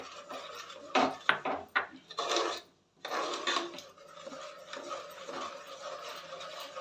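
A spoon scrapes and clatters against a pot while rice, jaggery and milk are stirred together for a sweet dish. The stirring comes in steady bursts with one brief pause, fairly quiet and close, with no talking.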